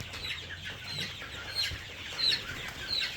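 Two-month-old Egyptian Fayoumi chickens on a farm give soft, scattered clucks and high peeps, fairly faint and intermittent over a low background murmur.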